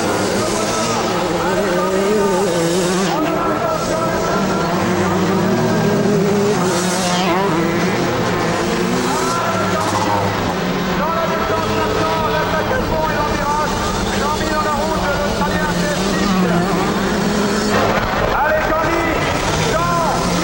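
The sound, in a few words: motocross motorcycles racing, 125 Honda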